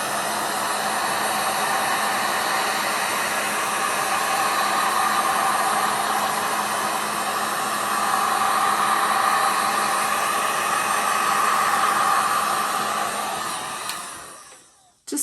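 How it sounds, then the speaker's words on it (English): A steady, loud blowing roar from a heat gun aimed at poured fluid art paint runs close and unbroken for about fourteen seconds before cutting off abruptly. "let's torch our heat gun again and see if we can bring some more stuff out"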